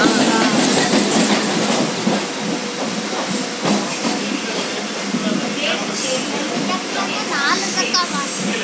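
A loud, continuous rumble and rattle of a Southern Railway train rolling along the tracks nearby at Putlur, with hissing and voices talking over it.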